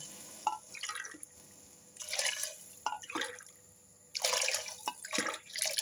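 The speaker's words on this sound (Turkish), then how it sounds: "Şöyle mercimekte biraz kavurduktan sonra şöyle suyunu ilave ediyorum." Water poured in several separate bursts into a pot of sautéed lentils for a vegetable soup, bright splashing pours with short quiet gaps between them, close and clear without talk.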